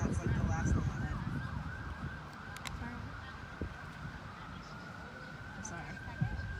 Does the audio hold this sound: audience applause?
no